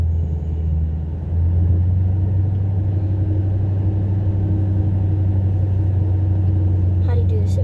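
A Shelby GT500 drives steadily with a deep, constant engine rumble that stays close and fairly loud throughout, with a faint higher squeak near the end.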